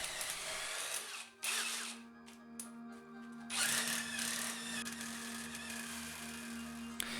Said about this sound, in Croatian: kotače sa automobila bez problema možete skinuti sa ovom bušilicom